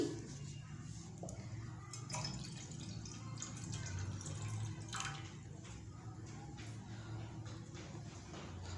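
Water pours into a cooking pot on a lit stove while semolina halwa is being made, a steady liquid splash and trickle with small drips, fairly quiet and unbroken.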